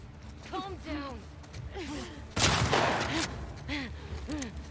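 Gunfire from the video game The Last of Us Part II, a loud burst of shots in the middle of the clip, with a voice talking throughout.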